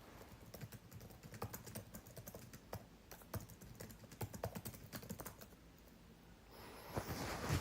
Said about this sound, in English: I'll just type something in the chat.